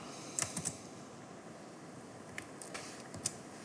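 A few quiet keystrokes on a computer keyboard, a quick cluster of clicks and then a couple of scattered presses against a faint background hiss.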